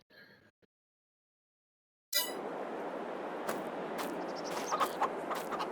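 Farm chickens cluck in a few short bursts over a constant background hiss, beginning after a brief pause of near silence at the start.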